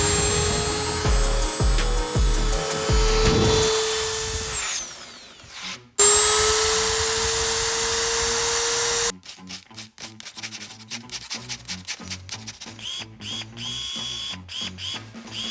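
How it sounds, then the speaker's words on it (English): A Dremel rotary tool shrieks at a high steady pitch as it cuts RC car body parts to clear Hobao wheels, in two loud runs broken by a short gap, followed by a long stretch of rapid irregular clicking and tapping up close. "Gotta bust out the Dremel, gotta bust out the tools."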